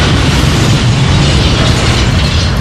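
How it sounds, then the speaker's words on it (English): A freight train crashing inside a tunnel, staged as an audio-drama effect, comes through as a loud, dense roar of rumbling impact and grinding metal that stays steady and heavy throughout, with no voices. "I believe that's the sound of a freight train meeting a greater opposing force."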